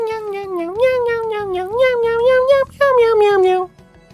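Morgana the cat from Persona 5 Royal lets out a long, loud, drawn-out meow with rising and falling pitch, briefly broken near the end and then stopping abruptly.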